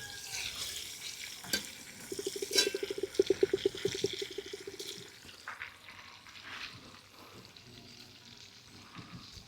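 Ackee goes into a pot with chicken and fries with a soft, moderately close sizzle, broken by watery bubbling, a rapid rattling stir and scattered clinks of utensils.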